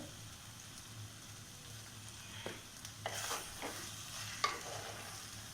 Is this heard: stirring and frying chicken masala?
yes